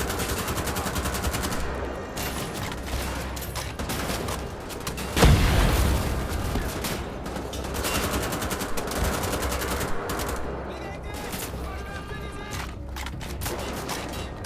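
Gunfire from Wolfenstein: The Old Blood on PS4, dense rapid shots rattling continuously with a sharp louder burst midway, set against a busy game soundscape, with no talk over it.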